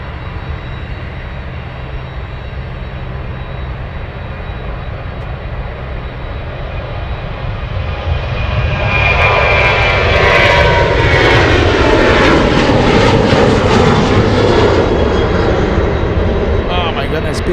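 A cargo airplane takes off at Anchorage, its engines swelling from a steady rumble into a loud, close roar that holds for several seconds, with a faint voice underneath.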